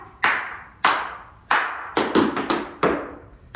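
A series of sharp, flat tap shoe heel drops on a hard floor, seven strikes in an uneven rhythm with a quick cluster in the middle, close and crisp, no talking.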